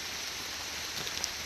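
Hard rain falling during a storm on a hiking trail, a dense steady hiss of drops with a few faint distinct patters, continuous and fairly close.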